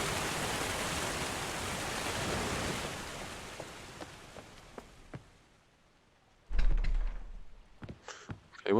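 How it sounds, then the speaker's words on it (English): A waterfall in the Obduction video game roars as steady, broad rushing water, then fades away over several seconds, followed by a few scattered clicks and a brief louder burst of other game sounds. "So let's go have a look. Underneath the waterfall."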